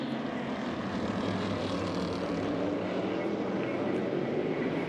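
A pack of NASCAR stock cars roars away at the green flag to start a heat race at the 2025 Clash, a dense, steady engine drone held at constant loudness throughout with no gaps.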